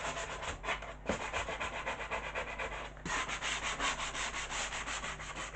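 Wood being hand-sanded for furniture restoration in a workshop, a close, steady rasping rub in continuous back-and-forth strokes with a brief pause midway.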